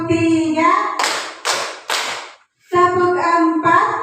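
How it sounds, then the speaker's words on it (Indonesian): Group of classroom students clapping hands in three separate bursts between stretches of voice, fairly close and loud, with a teacher's voice speaking before and after the claps. "tepuk 1, tepuk 2, tepuk 3"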